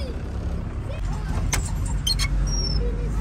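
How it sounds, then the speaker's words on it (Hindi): A car is pulled over to the side of a road during a Banaras journey. Its close, low engine rumble runs steadily under a few brief clicks and faint background voices. "पहले गाड़ी अच्छे से साइड करते हैं"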